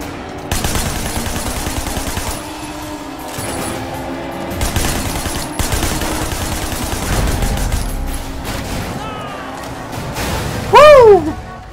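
Gunfire in Sleeping Dogs aimed at a car's tires, loud repeated bursts of shots in irregular volleys over vehicle noise, ending with a sharp rising whine and a louder crash near the end.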